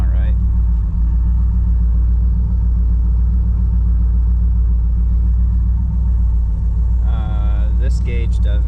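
An old project car's engine, cold and reluctant, runs at a steady low rumbling idle that fills the whole stretch, with a brief higher-pitched whine or squeal rising near the end.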